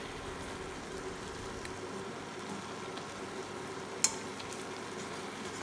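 Avial vegetable curry stirred in a pan gives a quiet, soft sizzle with faint scraping, plus one sharp clink near the end.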